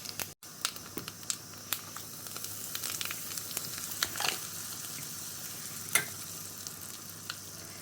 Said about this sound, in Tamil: ரெண்டே ரெண்டு கருவேப்பிலை வாசனைக்கு ஓமம் பொரியட்டும்